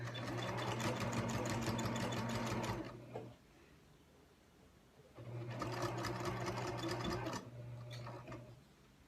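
A sewing machine stitching a fabric tote bag, running in two steady bursts of rapid, even mechanical clatter with a quiet pause between them, close and clear with no talking.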